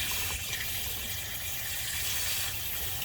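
Water rushes steadily through the heater core of a 1989–98 GMC K1500 truck as it flushes out dirt, a faint, continuous hissing flow with no voices.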